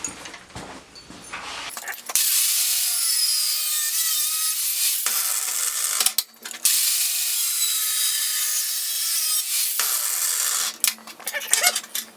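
Metal bar stock held in a vise is cut off by hand for a forged spatula, with long rasping saw strokes in two sustained runs separated by short pauses and a few clanks.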